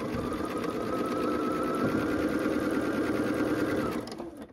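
Sewing machine stitching quilt fabric, a loud steady mechanical whir close up that runs continuously for about four seconds, then slows and stops.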